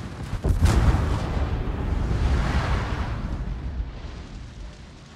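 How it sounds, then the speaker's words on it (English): Torpedo explosions in a naval combat video game, a heavy booming blast followed by a long rumbling, roaring wash that slowly fades. "Torpedoes dead ahead."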